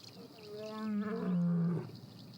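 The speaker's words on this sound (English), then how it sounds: "He's responding, sending out a powerful roar." A male lion gives a single deep, powerful roar in the wild, rising and swelling for about a second before fading, close and loud against quiet surroundings.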